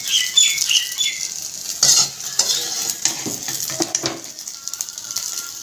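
A utensil lifts fried soybean chunks out of a nearly dry pan, giving close metallic scrapes and clinks over a faint sizzle, in irregular bursts with short pauses between them.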